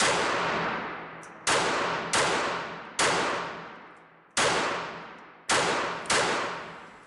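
Seven loud, close reports from a KelTec P32 semi-automatic micro-pistol, some fired in quick pairs, each sharp crack followed by a ringing, reverberant decay.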